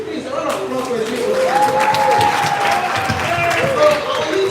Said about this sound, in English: Please, a round of applause for the people.